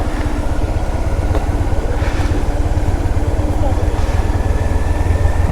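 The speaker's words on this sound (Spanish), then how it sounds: "¿Dónde vamos a dejar la moto para bajar a ver?" A motorcycle engine runs close and loud throughout, a steady rumbling drone at a rural market in a remote Andean village.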